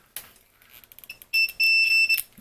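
A multimeter in continuity mode, probing connections while repairing a B&O BeoCom 2 phone: a few light probe clicks, then a short beep and a longer sustained beep, close and clear in a quiet room.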